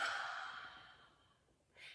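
Breathing in during a pranayama breathing exercise: one long, soft airy inhale that fades gradually, followed by a brief new breath at the end.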